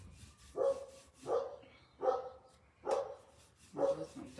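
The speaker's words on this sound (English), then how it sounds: "There goes my dog." A dog barks five times at a steady, evenly spaced pace, each bark moderately loud and somewhat distant, with no talking over it.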